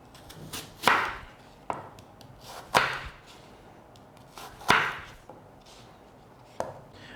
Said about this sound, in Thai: ต่อไปก็เป็นแอปเปิลเขียวนะครับ เราก็มาผ่าครึ่งนะฮะ